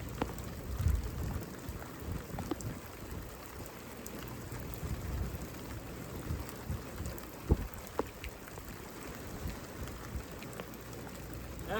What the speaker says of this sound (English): Thunderstorm.